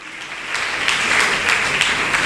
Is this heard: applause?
yes